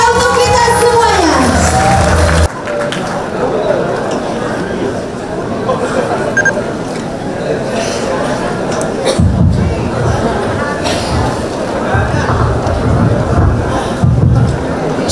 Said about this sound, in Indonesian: Berikan tepuk tangan yang paling meriah untuk kita semuanya.